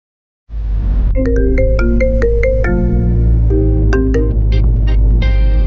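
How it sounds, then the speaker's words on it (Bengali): A phone ringtone plays a bright repeating electronic melody, loud and close, starting after a brief silence and continuing steadily with layered tones. "মল্লিকাকে একটা ফোন করি তো।"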